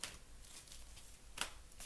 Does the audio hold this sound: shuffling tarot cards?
yes